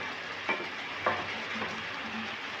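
Chicken and potatoes frying in oil in a pan, a soft, even sizzle with two faint stirring scrapes, quiet and close with no voices.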